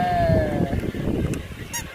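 A duck playing beside a vehicle's wheel gives a few nasal honking calls over a busy background, with a voice briefly audible nearby.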